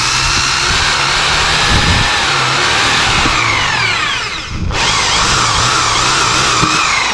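Loud, steady power-tool whine of a hole being drilled through iron without a drill bit, running continuously throughout with a brief dip in pitch partway through.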